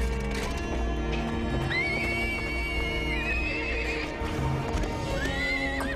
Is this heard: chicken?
no